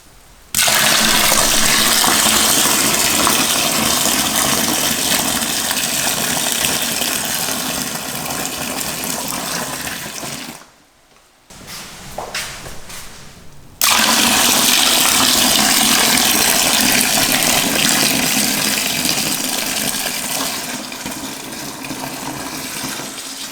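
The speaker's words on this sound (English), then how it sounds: "Now it's time to fill up with cold water to the level that we require." Cold tap water gushes steadily into a beer-brewing fermenter in a loud continuous rush, stopping briefly midway before the strong flow resumes.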